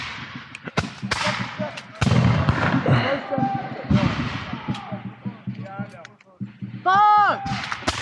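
Musket volley at a Revolutionary War reenactment: several loud, sharp reports spaced across the scene, with shouting and talk from participants between and over the shots.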